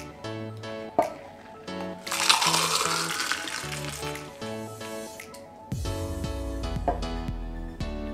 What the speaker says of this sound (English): we're just gonna open pour into our double rocks glass